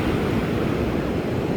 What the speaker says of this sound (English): The surf is up today.